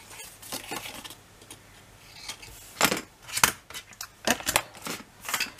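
Scissors snip a folded paper sheet to bevel its edges for a scrapbook album, with several quick crisp cuts close by and a brief spoken word at the start.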